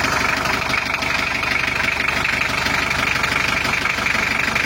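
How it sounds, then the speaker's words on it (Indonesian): Diesel engine of a restored 1982 car fitted with a turbo, idling steadily just after start-up with an even, close, rattling rumble and no talk. "Ini udah kita hidupkan dan ini adalah hasil suara mesinnya."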